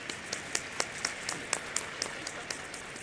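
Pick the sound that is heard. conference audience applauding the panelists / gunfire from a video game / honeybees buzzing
conference audience applauding the panelists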